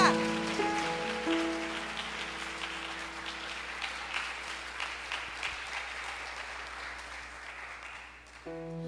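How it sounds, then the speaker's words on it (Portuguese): Church congregation applauding during a Pentecostal-style worship service, a dense steady wash of many clapping hands filling the space, with musical keyboard tones underneath at the start and returning at the end. "Você pode dar uma salva de palmas para Ele"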